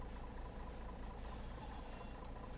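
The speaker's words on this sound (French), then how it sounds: "vraiment le bruit d'air c'est vraiment le bruit de l'embrayage" In the OMSI 2 bus simulator game, a Mercedes bus with a semi-automatic gearbox gives a steady low engine rumble with a faint hiss of clutch air, continuous and fairly loud, like a heavy vehicle idling.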